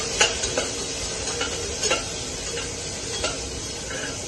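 Shallots sizzle steadily in a hot pan while being stirred for upma, with a continuous frying hiss broken by a few light spoon scrapes against the pan, close and fairly quiet.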